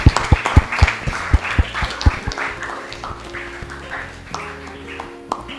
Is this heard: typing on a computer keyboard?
no